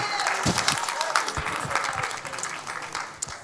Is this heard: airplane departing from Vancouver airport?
no